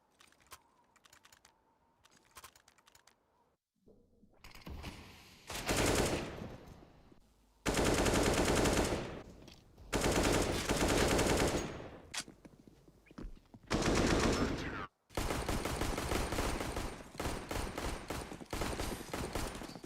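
Rapid bursts of automatic gunfire from a Counter-Strike esports match, loud clustered volleys broken by short gaps, with faint keyboard-like clicking at the start and no talk.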